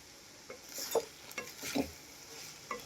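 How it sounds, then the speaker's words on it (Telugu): A spoon stirs boti fry (goat tripe) in a pan, giving soft scraping knocks at irregular intervals over a faint low sizzle, close and quiet, with no talking. "వేసి వీటిని ఒకసారి బాగా కలుపుకోవాలి"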